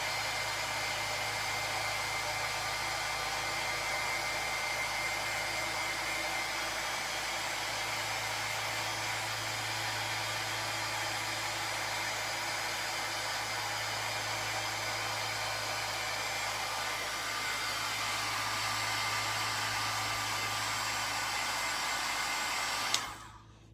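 Heat embossing tool blowing hot air over a card held on a lap, a steady close fan-like whoosh running unbroken for the whole stretch before cutting off abruptly at the end.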